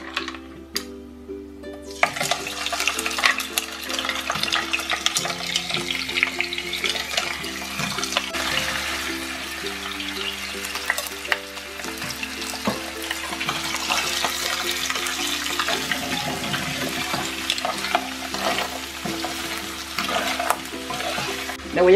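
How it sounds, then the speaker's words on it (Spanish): Seafood rice frying in a pan, a steady broadband sizzle with stirring scrapes running throughout, loud and close, with no talking. "Y ahorita lo que voy a hacer es freírlo muy bien."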